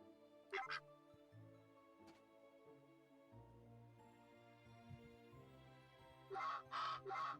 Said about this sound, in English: Just the sound the ducks make when you put them down, I guess.